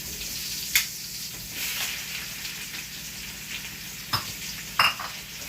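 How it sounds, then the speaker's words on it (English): Shrimp sautéing with onion and garlic in a hot pan, a continuous close sizzle broken by a few sharp utensil clinks against the pan. "Sauteing and sauteing again. Now the onion, the garlic, we are going to put the shrimp."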